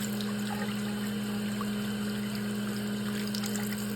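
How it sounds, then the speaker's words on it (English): Sink water running in a steady stream over a spoon, a soft continuous trickle with a constant low hum underneath, faint and unbroken throughout. "you just saw a video of a spoon in a sink flowing through a stream of water"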